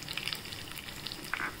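Cumin, mustard seeds, chana and urad dal and green chillies crackling in hot oil for a fodni tempering, a steady close sizzle with small pops and spits throughout.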